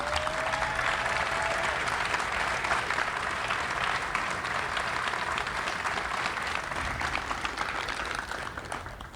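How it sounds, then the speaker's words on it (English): At a 9/11 remembrance ceremony, an audience gives a large round of applause for first responders and military, sustained dense clapping that slowly fades near the end. "please acknowledge them with a large round of applause"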